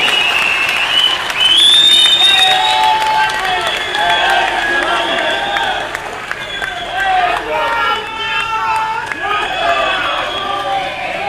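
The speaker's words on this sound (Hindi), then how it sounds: "जोरदार ताली बजती रहनी चाहिए।" A large crowd at an outdoor Shiv Sena election rally in Silvassa claps and cheers loudly and continuously, the applause swelling early and sustained throughout, with voices shouting within it.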